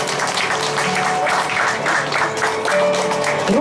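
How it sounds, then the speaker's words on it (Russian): Guests applaud the ring exchange at an outdoor wedding registration at a restaurant in Tyumen: sustained, loud clapping from a crowd, steady throughout, with faint background music and a murmur of voices. "Под аплодисменты наших гостей."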